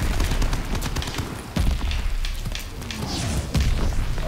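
Pistol fire in a shooter video game, from a high-recoil handgun: a rapid string of sharp shots with heavier booming hits and explosions mixed in, loud and busy.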